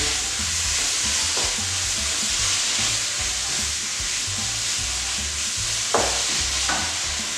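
Tomato puree is stirred into a simmering pan of vegetarian chilli, making a steady bubbling sizzle with soft scraping strokes and an occasional sharper knock near the end.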